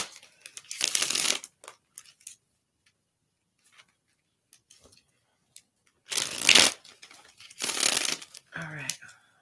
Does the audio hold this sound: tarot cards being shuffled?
yes